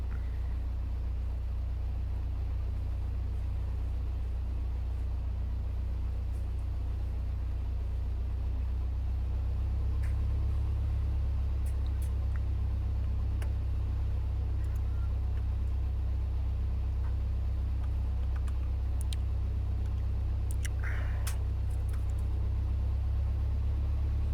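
A Piper Cherokee 180 light aircraft engine idles on the ground with a steady, deep, throbbing rumble, constant and unchanging throughout, with faint clicks and small noises now and then above it.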